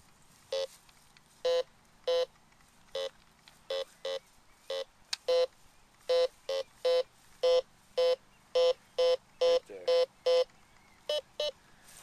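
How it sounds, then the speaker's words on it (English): A Discovery 2200 metal detector beeps repeatedly over a buried target outdoors in Belleville, Ontario, with sharp tones coming in an irregular series that quickens into rapid pulses, loud and close. "My metal detector is going off pretty good."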